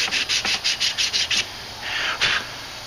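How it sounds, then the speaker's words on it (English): Close, loud strokes of 150 grit sandpaper wrapped on a block rubbing over pine wood, a quick run of about ten rhythmic back-and-forth passes followed by a pause and a longer, slower stroke. "I'll take and use the edge of my sandpaper and my block and sand that out real good"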